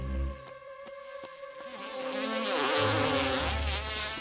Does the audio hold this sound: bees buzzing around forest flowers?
yes